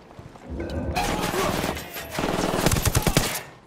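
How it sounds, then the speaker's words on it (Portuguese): Video game gunfire erupting in sustained automatic bursts and rapid volleys, loud and close, with a quieter lead-in before the shooting starts and a second heavier burst near the end. "Atirando em nós da estação de triagem"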